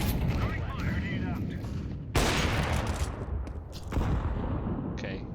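Grenade blasts and gunfire in a first-person shooter match on the Nuke map, a dense, loud boom around two seconds in followed by further bursts and rumbling blasts over continuous background game noise.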